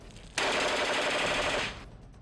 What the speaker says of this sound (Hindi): अचानक उनकी बंदूक गोलियां उगलनी शुरू कर देती है